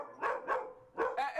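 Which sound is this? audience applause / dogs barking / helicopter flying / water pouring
dogs barking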